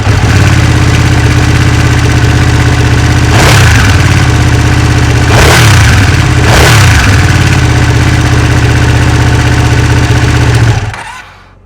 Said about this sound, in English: As soon as you open the throttle and unleash the power of this 959, the bike screams.